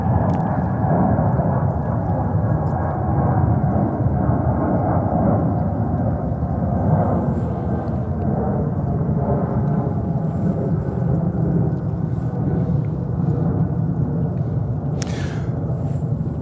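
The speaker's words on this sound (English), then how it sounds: "our next departure is JetBlue to Point Salinas, followed by another JetBlue" Steady, loud low roar of a JetBlue jet airliner departing JFK airport on a winter day, a continuous broadband rumble that holds throughout at a distance with no talk.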